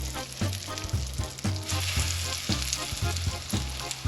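Two keto Scotch eggs fry in hot oil, giving a loud, close, bubbling sizzle, with low rhythmic thumps roughly every half second beneath it and no talking.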